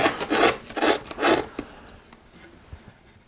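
A hand carving tool rasps across a wooden coastal relief in three or four short scraping strokes, close and crisp, followed by quieter faint scratching and near silence.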